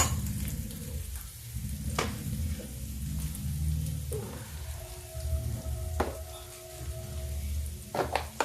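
Green chili and ginger sizzle in a pan over a high gas flame, a steady crackling hiss with a few sharp pops, alone with no voices.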